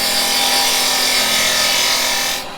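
A woodturning tool cuts into wood spinning on a lathe, giving a steady, loud, hissing scrape that runs unbroken for over two seconds before dropping away near the end.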